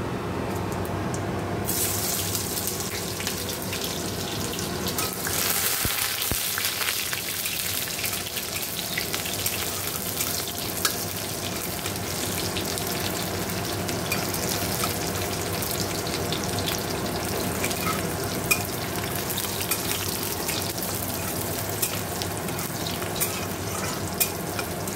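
Onion and dried chilli crackle in hot oil as a tempering for dal, a dense, steady frying hiss that fills the whole stretch without pause and with no talking.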